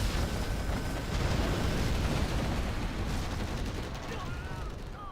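Dense, continuous battle noise from a replay of a Boss 2 tournament quarter-final, a steady wash of gunfire and blasts with no clear gaps, loud and unbroken throughout, thinning slightly at the end.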